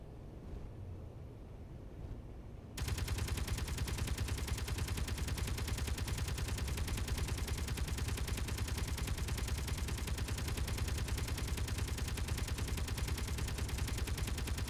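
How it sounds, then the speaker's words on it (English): Many guns fire at once in the game Space Engineers, a dense, continuous rattle that starts abruptly after quiet and then holds steady and loud without pause. "that's a lot of guns shooting at me"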